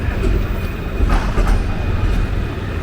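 A Melbourne tram rolls past at twilight in front of the old Treasury building, a loud, close, steady rumble of wheels on rails with faint clicking and no voices.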